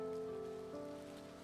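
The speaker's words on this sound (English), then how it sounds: "it's raining" Steady rain falls in the video game A Bird Story, a continuous patter of drops on a surface alongside sustained tonal music, fairly quiet and with no voices.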